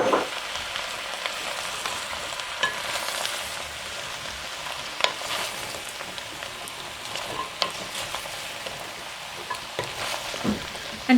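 Onions and butternut squash braise in a pot for a fall butternut squash soup, a steady soft sizzle with scattered light clicks and stirring scrapes running throughout, fairly close and even in level.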